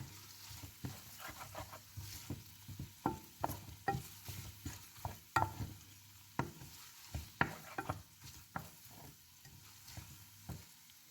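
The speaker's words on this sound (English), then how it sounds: "Saute this until the onions turn translucent." Onions sautéing and being stirred in a pan, with repeated scraping and stirring strokes over a steady low sizzle, close and moderately loud, no talking.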